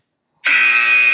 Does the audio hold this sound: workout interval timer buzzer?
yes